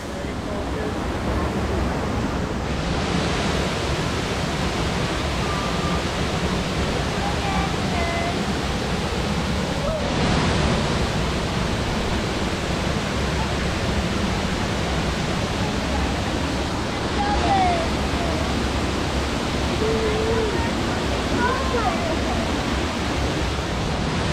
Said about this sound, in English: Here is the waterfall, guys.